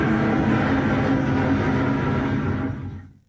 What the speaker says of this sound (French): J'imagine que c'est le bruit d'ambiance qu'ils mettent pour qu'on imagine le bruit que ça ferait en réalité.